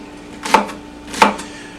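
Two crisp knife chops on a cutting board, spaced well apart, as vegetables are cut for a Dutch oven beef stew; close and clear with no talking.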